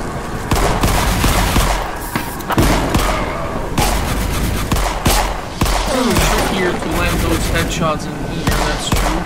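Repeated loud pistol shots from an upgraded Luger-style handgun blasting zombies in the video game Forgive Me Father, sharp cracks in irregular bursts over dense game noise, with a voice talking throughout.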